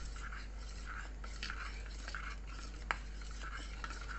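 Homemade custard mixture for bread custard pudding being stirred until smooth, faint soft swishing and light scraping of a spoon against a bowl in a quiet kitchen, with one brief clink.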